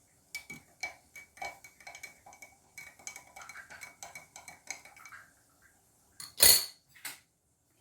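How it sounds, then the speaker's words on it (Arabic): A metal spoon stirs cumin and salt into a glass of chickpea cooking water, giving a run of quick close clinks against the glass, then a pause and one louder knock near the end. "وهنحركها"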